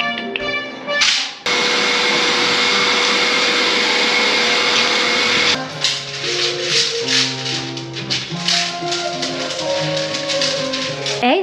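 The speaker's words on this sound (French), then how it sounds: "nous allons passer l'aspirateur sur mon chéquier pour tout aspirer" A loud vacuum cleaner roars steadily for several seconds, its motor drone shifting in pitch as it runs over a chequebook, with faint clatter in the background.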